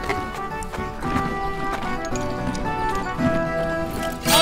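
Horse hooves clip-clopping in a steady rhythm at close range, with a whinny and some music playing alongside.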